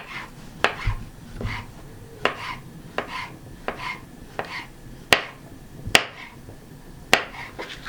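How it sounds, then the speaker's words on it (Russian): A knife slicing mushrooms into thin slices on a cutting board for a potato frittata, sharp taps in an uneven rhythm, close and fairly crisp. "грибочки нарезаем тоже такими слайсиками"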